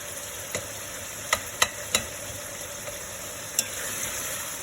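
Minced meat for bolognese cooks in a pan with a soft, steady sizzle, fairly faint, broken by a few sharp clicks and taps of a utensil against the pan.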